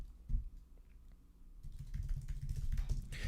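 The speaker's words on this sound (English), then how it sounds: "I'm in the middle of typing one in." Someone types on a computer keyboard with soft, fast key clatter that grows busier partway through, quiet beneath a low room rumble.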